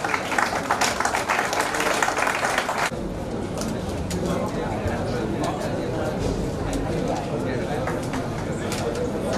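At a college annual function, the audience claps for guests on the dais, with loud, crisp clapping at first that drops to a softer, murkier patter under room noise and talk after about three seconds.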